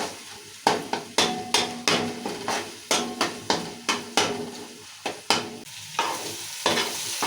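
Onion and ginger paste frying in oil for chicken biryani, a steady sizzle broken by repeated sharp clacks of a spoon stirring and tapping against the pan.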